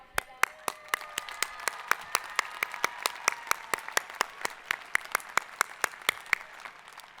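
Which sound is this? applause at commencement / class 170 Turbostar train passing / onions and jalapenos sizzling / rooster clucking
applause at commencement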